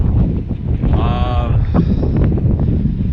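Strong wind buffets the microphone on a cold, foggy mountain summit trail, a loud continuous roaring rush with gusty swells that never lets up, while a voice speaks briefly over it.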